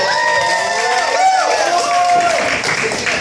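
Comedy club audience clapping and cheering for a stand-up comedian's mother seated in the crowd, a dense steady roar of applause with voices mixed in throughout.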